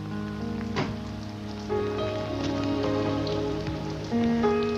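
Rain falls steadily on a wet morning before the final race of the 1983 Suzuka F2 series, a constant wash of drops with low droning tones beneath and no voices.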